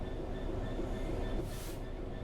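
A Class 66 diesel locomotive in Train Sim World 3, running as a rail head treatment train, gives a steady low engine rumble and rolling drone at a moderate distance, with a faint hiss swelling partway through.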